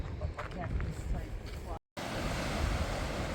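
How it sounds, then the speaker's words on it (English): Ocean waves rushing onto the Carmel shore in a broad, steady surf wash mixed with wind buffeting the microphone, with a short dropout partway before the rush resumes. "The water just rushing in."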